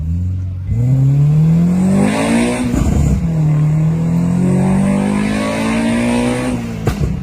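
A modified race car on a track at night revs hard and accelerates, the engine note climbing, dropping at a gear change, then rising again in a loud, sustained near roar with no talk.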